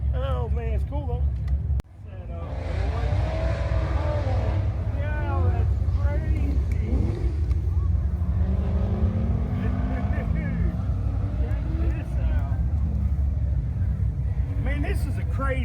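An LS-swapped General Lee car runs with a steady low engine rumble through most of the stretch, loud and continuous after a brief dip, while people talk over it at a car show.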